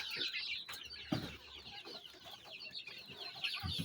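Soft cheeping and clucking of month-old incubator-hatched chicks and guinea fowl keets, a steady chatter of small peeps with a few louder calls, close by and continuous.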